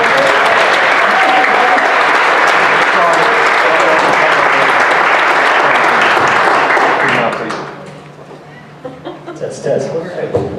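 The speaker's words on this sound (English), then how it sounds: "Let's give another round of applause." Loud, sustained applause from a convention audience at a skeptics' conference, a dense wash of clapping that fades around the eighth second into scattered claps and a few voices.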